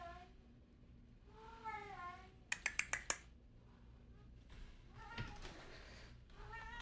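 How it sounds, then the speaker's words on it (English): A house cat yowls and meows in the background with a few drawn-out wavering cries, fairly faint, alongside game sounds including a quick run of sharp clicks. "Kitty cat is yowling in the background."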